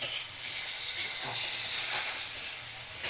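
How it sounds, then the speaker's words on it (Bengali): Kashmiri red chili powder frying with ginger-garlic paste in a pan, a steady close hiss of sizzling with faint scraping, no voices. "কাশ্মীরি রেড চিলি পাউডার দিয়ে 2 থেকে 3 মিনিট আমি কষিয়ে নিয়েছি"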